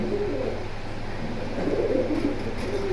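Pigeons at a small pigeon market in Kalindi, Keraniganj, Dhaka coo softly and repeatedly, a low steady burbling layered over constant background hum with no talking.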